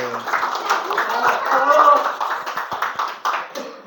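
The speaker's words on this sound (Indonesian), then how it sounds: "Sekian aplaus dong buat kelompok" A classroom group gets brief applause, with a burst of clapping from several people that runs under chatter and voices before it fades.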